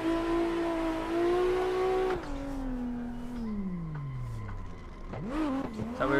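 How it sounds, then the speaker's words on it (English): In a racing game on a wet Mt. Akina course, a car's engine holds a steady high drone while drifting, then drops in pitch as it slows. Sharp tire squeals and a rising rev come near the end. "This car is just roasting the tires on this course right now."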